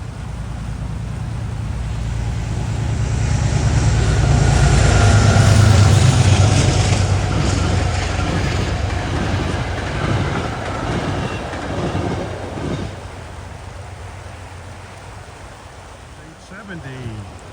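A Metro-North train from Grand Central to Poughkeepsie rumbles past, loud and close, its wheels clicking rhythmically over the rail joints as it speeds up, then the roar slowly fades.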